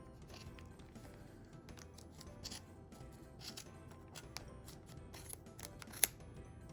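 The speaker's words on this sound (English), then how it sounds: "The little scissors struggle just a touch, but Fiskars are good and sharp, so I know it will do it." Sharp Fiskars scissors snip through crochet yarn in a run of quiet, close, uneven cuts, ending with one sharper snip.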